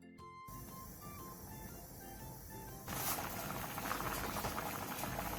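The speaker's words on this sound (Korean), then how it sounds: "국물이 바글바글 끓어오르면" Beef bone broth for budae-jjigae bubbles vigorously in a pot over high heat, a close, continuous crackling simmer that grows louder and busier partway through, with no talk.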